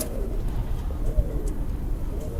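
Pigeons coo in low, soft repeated murmurs, close by, over faint background noise.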